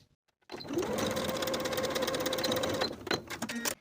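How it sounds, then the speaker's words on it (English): Sewing machine stitching a neckband seam on a wrap sweater, a fast steady mechanical whir running for about two and a half seconds, then a few short stop-start bursts, close and alone. "Sew with a 3/8 inch seam allowance and press the seam open."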